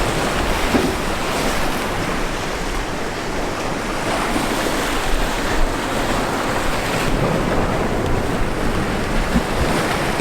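Ocean surf along the shore in Jamaica, a continuous loud wash of waves mixed with gusty wind buffeting the microphone, steady throughout with no talking.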